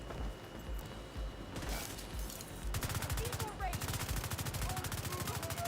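Rapid automatic gunfire from a shooter video game, The Division 2, with scattered shots at first, then sustained fast bursts that grow louder and denser in the second half, a voice talking over the shooting.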